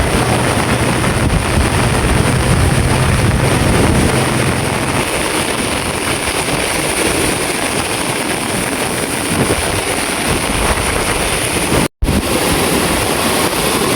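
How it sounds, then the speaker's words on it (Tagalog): Strong wind roars steadily and loudly through trees during bad weather, a dense rushing noise that cuts out for an instant near the end. "Taas ng hangin ng mga puno."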